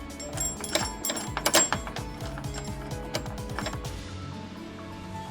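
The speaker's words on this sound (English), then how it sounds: "We're gonna screw that back in." A part being screwed back into a 2019 Ford F-150 tailgate with a Torx wrench, close-up rapid metallic ratcheting clicks in bursts, louder early and then fading to lighter ticks.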